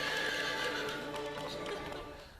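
A horse whinnies loudly and close over a rushing, noisy backdrop with faint hoof clatter on rock, the sound tapering off at the end.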